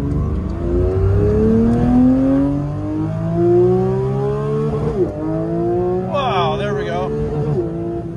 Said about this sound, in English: it looked like it was never gonna stop revving.